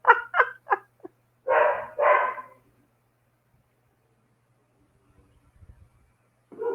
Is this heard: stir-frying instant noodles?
no